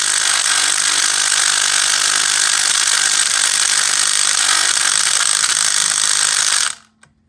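A hand ratchet clicks rapidly and continuously while loosening a bolt on a car brake caliper during a caliper and rotor change, loud and close for several seconds before stopping abruptly.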